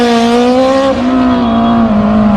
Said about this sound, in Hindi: पहले सुनते हैं जेड टेन का साउंड।